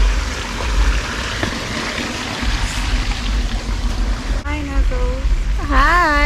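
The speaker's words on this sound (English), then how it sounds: "There's a little river here." Small river flowing in Vincennes, St. David, Grenada, a continuous close rush and trickle of water, with people's voices joining near the end.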